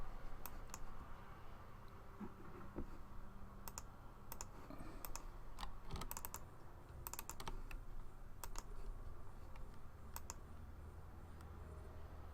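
Sharp computer mouse clicks come while EVE Online is being played, scattered single clicks and quick bursts over a faint steady hum, close and fairly quiet.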